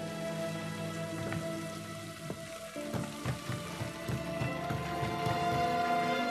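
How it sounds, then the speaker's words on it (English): Heavy rain pours steadily in Doctor Who: The Eternity Clock, a dense hiss of drops on surfaces that swells slightly louder toward the end, with faint music tones underneath. "It's rain. So heavy."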